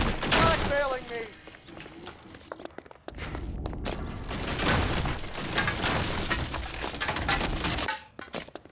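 Gunfire in a shootout in the video game L.A. Noire, loud sharp shots and bursts layered with shouting voices and clatter, pausing briefly before another dense stretch of firing.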